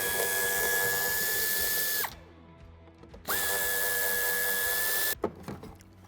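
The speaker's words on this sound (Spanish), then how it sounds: "Quitaremos estos dos tornillos." A power screwdriver backs out two screws holding the fog light on a 2021 facelift Renault Trafic van: two steady, close, high-pitched motor whines of about two seconds each, separated by a short pause, followed by a few clicks and knocks.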